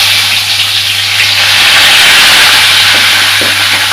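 Onion paste sizzling and frying steadily in a pan with bay leaf, fennel and cinnamon for hotel-style channa masala, a continuous close hiss with no talk.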